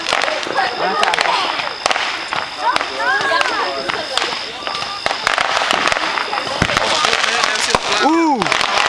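Fireworks go off outdoors in North Carolina, a dense stream of crackling bangs and pops with a couple of whistling rockets, while people talk and call out close by.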